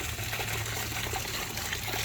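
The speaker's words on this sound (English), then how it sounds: "it's water." Steady trickling water outdoors after rain, a continuous close wash of flowing liquid with no clear breaks and no speech.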